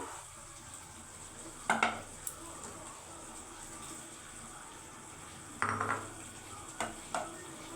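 Prawns go into a pan of simmering prawn malai curry, giving a soft bubbling sizzle with a few sharp clinks of a utensil against the pan.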